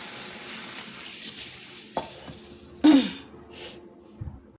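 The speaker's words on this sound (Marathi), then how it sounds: "तर याला मी आता 2 ते 3 पाण्याने धुवून घेते." Mung beans being washed in water in a home kitchen: soft swishing and stirring with a few sharper splashes and knocks against the bowl, close and fairly quiet.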